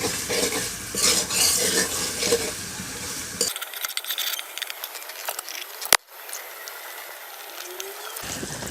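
Spices frying with onions in a pan for a chicken roast, a steady sizzle with scraping stirs of a spoon or spatula against the pan and one sharp clack, close and fairly loud.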